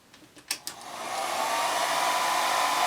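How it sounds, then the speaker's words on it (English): A few light taps and clicks come first, then a hair dryer switches on and blows a steady, close whirring rush of air across watercolor paper. "you will grab the blow dryer and a Q-tip and begin blow drying the paper until it is"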